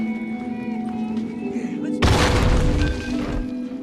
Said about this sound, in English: Alternatively, you can use those same type of nails to make a bomb.